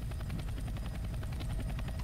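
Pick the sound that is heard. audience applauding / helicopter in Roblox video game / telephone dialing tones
helicopter in Roblox video game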